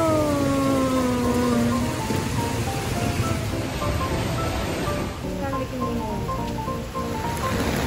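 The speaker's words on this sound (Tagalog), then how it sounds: "Lakas ng ulan, oh." Heavy rain pours down outdoors with a loud, continuous hiss that fills the clip, while a few voices talk briefly beneath the downpour.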